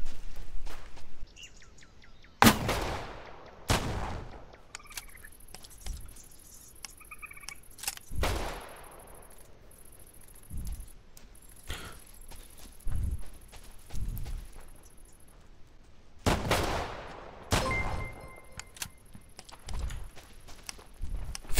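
Sharp, loud gunshots from the video game Deadside ring out at irregular intervals, each with a brief decaying tail, over a quiet background with faint electronic tones.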